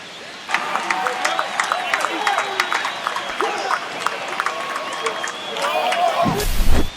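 A virtual stadium crowd in MLB The Show 25 roars and cheers after a home run in a Dodgers versus Giants game, a sustained swell of cheering with scattered claps that builds toward a loud burst at the end.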